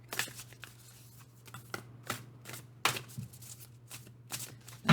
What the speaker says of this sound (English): think of your first yes/no question while I shuffle the cards